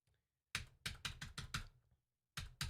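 Keys on a computer keyboard click in a quick run of about six presses, with two more after a short pause, all quiet and close against near silence.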